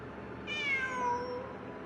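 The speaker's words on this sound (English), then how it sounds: "I'm not hearing things. It really is a cat." In a ruins exploration video game, a single drawn-out cat meow rises and then falls away, close and clear over a faint hum of background music.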